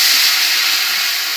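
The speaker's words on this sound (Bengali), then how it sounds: "তারপর কিন্তু এর মধ্যে দেব সামান্য একটু জল" Water poured into a hot pan of spices with turmeric and chili powder, giving a loud, steady hiss of sizzling steam that fades slightly over a second and a half, with no voices.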